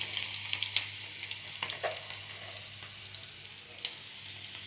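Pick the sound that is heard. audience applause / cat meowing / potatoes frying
potatoes frying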